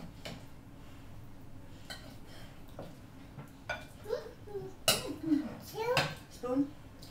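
Spoon scraping and clinking against a casserole dish, a few short irregular scrapes and knocks that pick up toward the end, mixed with a voice and other talk.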